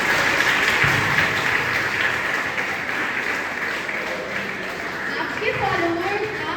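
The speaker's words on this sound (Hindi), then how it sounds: "ताली बजा दो" Applause from an audience at a recorded talk show fills the space in a steady, broad wash, with a voice speaking over it toward the end.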